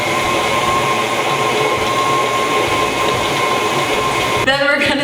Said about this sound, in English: I'm gonna turn on my mixer and see how that mixes together